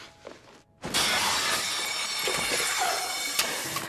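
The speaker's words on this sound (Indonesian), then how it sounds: "beberapa bagian lampu pecah dan terjatuh" A luxury lamp shatters when a beer can is thrown at it: after a brief quiet, a loud, sudden glass crash bursts out, followed by sustained tinkling and falling fragments.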